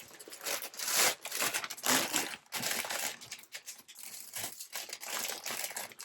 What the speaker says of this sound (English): I finally found some smaller plastic bags.